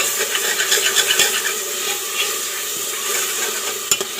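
Tomatoes sautéing in a pan in a home kitchen, giving a steady close sizzle and frying crackle with light stirring scrapes and a sharp clink near the end; no talk.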